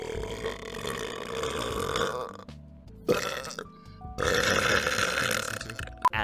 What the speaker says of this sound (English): do you think I burp too much?